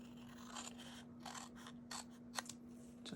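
Hand scissors snip along the border of a stamped paper card, producing a few quiet, crisp cuts and light paper scrapes in a still room.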